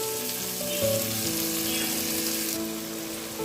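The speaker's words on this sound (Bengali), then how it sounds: "সবকিছু ভালো করে কষিয়ে নিব।" Chickpeas sautéing in a pan with chopped potato, tomato, salt, chili powder and cumin powder give off a steady, close oily sizzle with soft stirring movements throughout, and nobody speaks.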